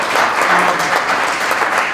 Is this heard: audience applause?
yes